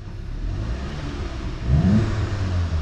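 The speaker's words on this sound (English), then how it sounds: "put the car into sport um, and give it a wee rev let you hear what it sounds like" A cold Volkswagen Golf MK7.5 GTI TCR in sport mode gives a short, moderate rev, its engine note rising and swelling midway from a steady idle, heard close with no talk.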